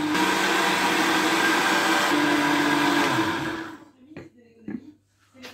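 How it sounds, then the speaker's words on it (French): A kitchen blender whirs loudly and steadily while mixing homemade pear juice, then cuts off abruptly, leaving a few short knocks and faint rustles. "Là, ça va tout mixer."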